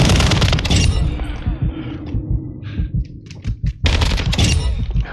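Shotgun firing in a shooter video game, loud close blasts at the start and again near the end, with scattered thumps and clatter in between, no voices.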